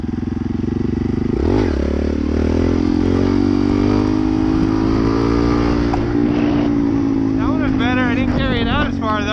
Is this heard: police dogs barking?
no